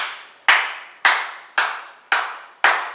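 Single pair of hands claps close and sharp, six crisp strikes at an even half-second pulse, each ringing briefly in a reverberant room, keeping a musical rhythm with no voices.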